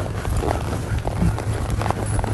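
Hooves of a horse ridden after a cow while working cattle, a steady, close, rapid clip-clop of running strides with a low rumble beneath.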